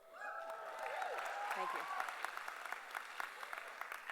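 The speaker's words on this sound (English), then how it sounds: "I'm glad you clapped" Audience applause at a school opening assembly, a sustained wash of clapping from a large crowd that fades slightly toward the end, with a speaker briefly giving thanks over it.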